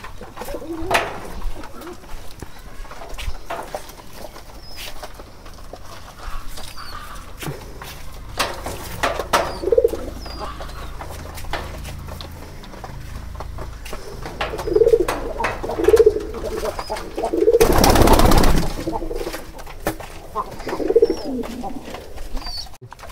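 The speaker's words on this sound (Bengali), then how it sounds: "কবুতরগুলো খুব সুন্দর মতো খাবার খেতে আছে।" Pet pigeons, including Sirajee and Lakka birds, cooing softly while feeding, intermittent coos amid scattered pecking and shuffling sounds, with a louder rustling burst near the end.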